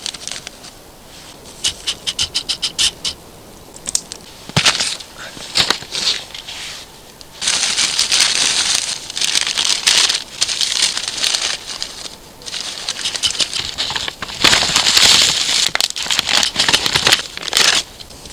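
A campfire catching in a snowy winter forest at about minus ten degrees, with dense, irregular crackling and snapping that grows louder and busier, with no talking.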